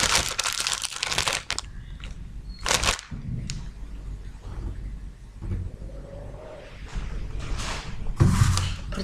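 Paper cards being handled, with bursts of crinkling and rustling separated by quieter pauses and a few soft knocks, close by.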